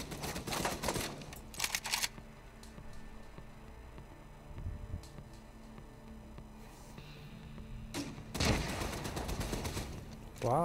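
Laser gun firing in The Division 2 during a Black Tusk invasion mission at Tidal Basin, clustered bursts of sharp shots at the start and again near the end with quieter stretches of ambient game noise between them.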